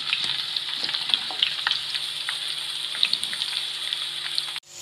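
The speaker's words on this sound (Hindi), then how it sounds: "गर्म घी में अच्छी तरह प्याज जल्दी जल्दी फ्राई हो जाता है।" Onions frying in hot ghee give a bright, continuous sizzle full of small pops and crackles, close and fairly loud, with no talk, until it cuts off abruptly near the end.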